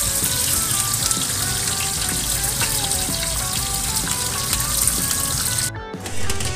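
Fish being washed under a running kitchen tap, a steady close splash and hiss of water with small irregular spatters as the fish is handled, continuing until the flow cuts off near the end.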